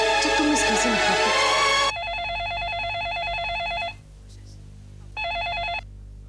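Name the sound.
telephone ringing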